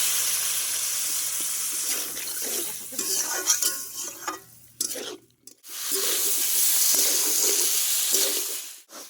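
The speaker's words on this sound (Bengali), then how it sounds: "কষানোর সময় একটু জল দিয়ে দিচ্ছি যাতে লেগে না যায়।" Water is poured into masala frying in a pan, giving a loud rush of sizzling and hissing, with a stirring interlude midway before the steady sizzle returns.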